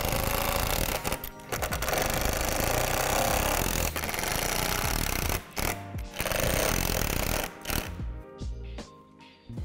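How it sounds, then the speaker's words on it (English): A loud power drill drives screws while assembling a Lifetime 150-gallon deck box, whirring in repeated close bursts, stopping and starting several times with brief pauses between runs. "you're going to need to use a drill to attach them"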